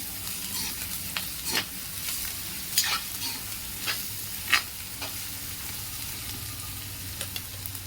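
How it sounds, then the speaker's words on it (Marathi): Crushed garlic sautéing in oil in a pan for a Maharashtrian drumstick amti, a steady close sizzle broken by several sharp stirring scrapes at irregular intervals, with no talk. "आता त्यात घालते थोडा ठेचलेला लसूण, तोही थोडा परतून घेऊ।"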